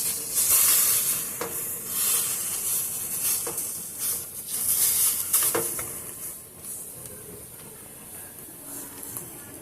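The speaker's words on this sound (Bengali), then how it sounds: "সেই কড়াইয়ের মধ্যে ছানাটাকে ভালো করে একটু জাল দিয়ে দেবো" Chhana (cottage cheese) cooking in a kadai on a gas stove, a steady sizzle and hiss broken by repeated scraping strokes of a spatula stirring it.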